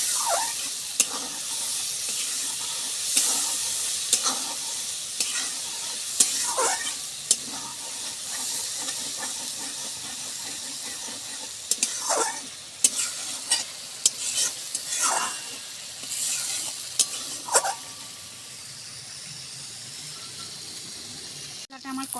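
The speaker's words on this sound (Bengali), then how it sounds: "এবার এই মশলাটা আমি কষিয়ে নেব।" Spice paste with Kashmiri chili powder and salt being stir-fried in a pan for rohu fish curry, a steady sizzle under repeated scraping stirring strokes, with occasional soft voice sounds.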